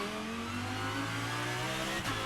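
A race car pulls away from the pit box after a driver change, its engine holding a steady droning hum under the pit limiter that shifts briefly near the end.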